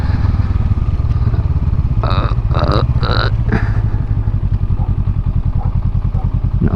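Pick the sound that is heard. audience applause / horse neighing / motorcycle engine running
motorcycle engine running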